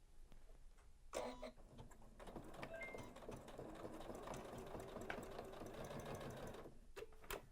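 A Janome sewing machine runs in one sustained burst, stitching along the seam where the top and bottom of a fabric bag meet, with brief handling sounds before and after the stitching.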